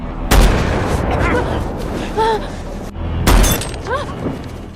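Gunfire in a Mark Wahlberg action film scene: two sharp, loud gunshots about three seconds apart, each a hard crack with a short tail, with voices speaking between them.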